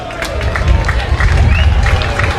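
A fairly subdued baseball stadium crowd at an NCAA regional game between Florida and East Carolina murmurs in a continuous babble, with scattered claps and calls and a commentator's voice faintly underneath.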